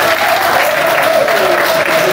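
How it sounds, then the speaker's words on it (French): Loud applause from guests at a civil wedding ceremony, a continuous wash of clapping with a sustained voice or cheer running underneath. "donc on s'applaudit encore très fort"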